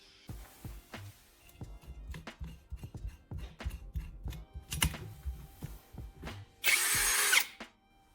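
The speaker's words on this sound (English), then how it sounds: "I take a hand drill and make small holes all the way around the side of the can." Close, repeated scraping and grinding clicks from a hand drill biting into a tin can, uneven in rhythm, ending in a loud burst of harsh noise.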